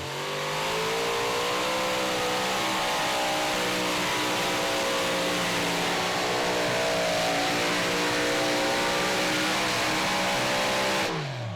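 A super modified pulling tractor launches at full power at a Pro Pulling League event in Saluda, SC, its engines roaring loud and sustained with a high, rising whine that holds for about eleven seconds before cutting off abruptly.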